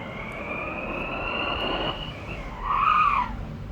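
A car spinning out with tires skidding, a steady rubber screech that swells louder near the end, with engine noise underneath.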